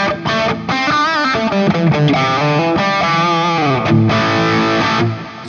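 Electric guitar played through a Lekato TANK-G modeler on its Marshall JCM 800 amp setting gives a loud, steady run of distorted chords and notes, heard alone with no voice.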